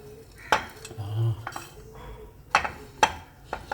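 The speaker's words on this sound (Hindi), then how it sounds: "अब इसको हम डिश में निकाल देते हैं" Semolina halwa with dry fruits is scooped into a serving dish, making a few sharp spoon clinks and scrapes against metal, close and spaced apart, with a short low thud between them.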